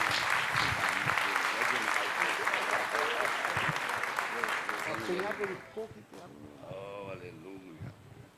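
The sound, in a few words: congregation applauding in church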